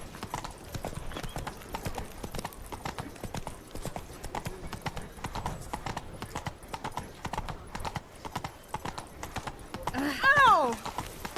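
Hoofbeats of a horse galloping in The Witcher 3 game, a steady rapid clip-clop running throughout, with a voice talking over it and a horse whinny rising near the end.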